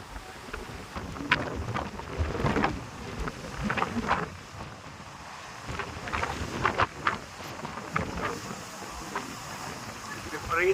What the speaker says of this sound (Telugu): విపరీతమైన గాలి వేస్తున్నది